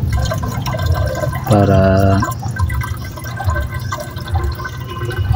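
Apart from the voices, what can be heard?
water being poured to prime a water pump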